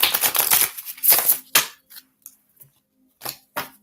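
Tarot cards being shuffled by hand, a few quick riffling bursts with short pauses between them, close and crisp.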